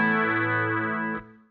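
Electric guitar on an Axe-Fx II clean tone with chorus and reverb, one shimmering chord ringing for about a second, then a quick change and a short reverberant tail fading out.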